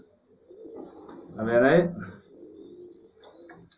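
Pigeons coo in a short burst from a backyard loft where a new young hen has been added for pairing, the throaty rolling calls rising loud in the middle under and between a woman's brief speech.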